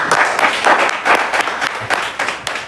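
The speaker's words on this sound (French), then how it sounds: "Applaudissons pour Axel Béré, s'il vous plaît." An audience applauds at a televised challenge-show grand final, steady dense clapping with rhythmic surges filling the whole stretch, loud and close, no speech over it.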